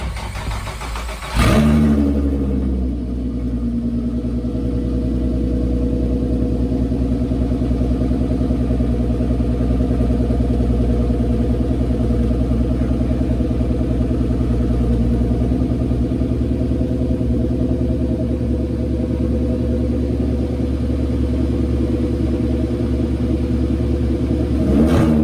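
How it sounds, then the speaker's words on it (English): A VR6 3.2 engine in a Volkswagen Caddy MK1 cranks and catches after a brief pause, then settles into a steady, loud, rumbling idle that runs on continuously without any voices. "Finally getting the engine started is a moment I'll never forget"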